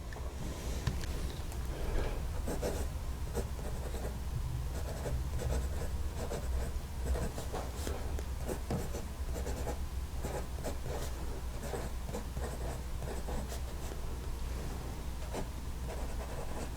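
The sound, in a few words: fountain pen with broad nib writing on paper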